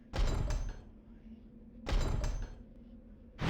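In the game Eternal Darkness: Sanity's Requiem, a heavy door sounds twice, each a sharp thudding burst with a short rumbling tail, separated by a quiet pause, near and fairly loud.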